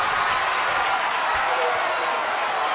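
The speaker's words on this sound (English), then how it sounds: "this crowd has been building, and they are in a fever pitch right now" A wrestling arena crowd roars at fever pitch in a dense, unbroken wall of cheering and applause, loud and sustained throughout, with commentators talking over the noise.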